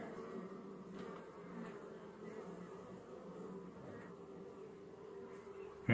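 Honey bees buzz steadily during an open hive inspection, a dense, continuous drone of many insects close by with small swells in loudness, no talking over it.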